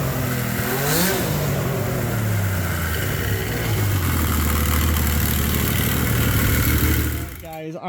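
A Yamaha triple snowmobile engine swapped into a Polaris RZR XP runs at a steady idle, a loud low drone with a brief rev blip near the start, and someone talks over it.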